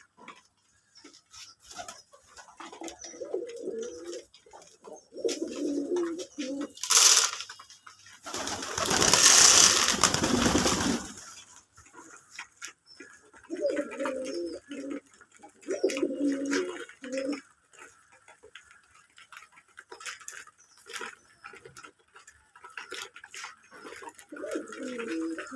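Domestic desi pigeons on a pigeon farm coo in repeated soft bursts with pauses between them, plus one louder broadband rustle partway through, likely wing flaps, all fairly close.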